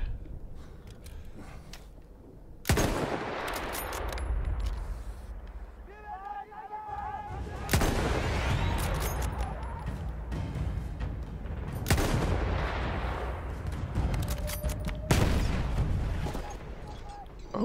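Heavy cannon and gunfire blasts boom in the Battlefield 1 video game, several loud hits amid continuous rumbling battle noise, with someone talking over the action.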